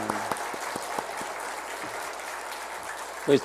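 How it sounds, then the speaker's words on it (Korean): A church congregation claps steadily during a Sunday service in a sustained burst of applause, fairly even and moderately loud, with a brief louder clap near the end. "수고해 주셨는데, 박수 한번"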